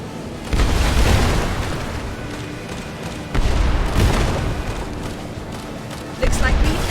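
Three heavy booming blasts of video game cannon fire from an airship, a few seconds apart, loud and rumbling, with voices talking underneath.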